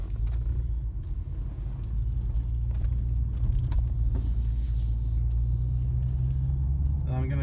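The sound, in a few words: 2011-2014 Nissan Maxima with new CVT transmission on test drive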